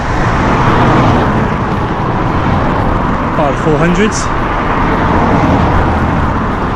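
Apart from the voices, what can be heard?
many cars passing on the road at night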